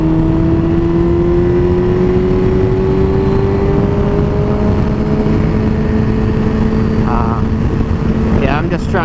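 Motorcycle engine pulling hard at high revs while riding, a loud steady drone rising slowly in pitch as it accelerates, with wind rush throughout.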